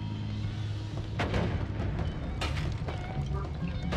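A bomb goes off in the pixel-physics game Noita, giving several booming thumps and crackling bursts over a steady rumbling game background, with the loudest blasts near the start and midway.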